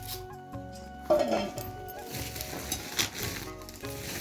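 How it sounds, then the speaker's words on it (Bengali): Homemade rice-flour cakes (pitha) frying in hot oil, a steady close sizzle with a sharp metallic clink as more pieces go into the pan, and light kitchen clatter throughout. "আর দুটি দিয়ে দিই ভাজা পিঠে তো অনেকগুলো ভাজা পিঠে অনেকটা সময় লাগে"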